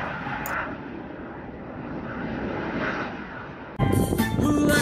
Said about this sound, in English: with jets flying in and out during the day